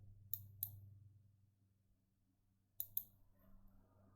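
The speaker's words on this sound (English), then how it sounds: "I'm going to click this plus right here." Computer mouse clicks close to the microphone, two quick double-clicks separated by a pause over a low steady hum.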